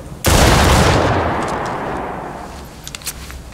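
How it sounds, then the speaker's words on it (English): A drill line fires a rising musket volley in the Civil War game War of Rights: one loud, sudden massed blast of rifles that rolls out and fades over a few seconds, followed by scattered faint clicks and rattles. "Loaded. Take aim. 70 yards. Rise. Fire."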